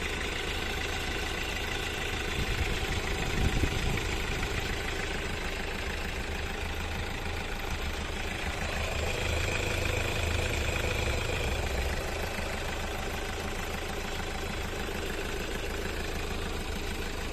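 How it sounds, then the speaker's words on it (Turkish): A Hyundai Accent Blue 1.6 diesel engine idles steadily after an oil change, a continuous low rumble with a faint rhythmic knock, close by and with no talking. "Şu an yağ değişiminden sonraki motor sesi bu şekilde."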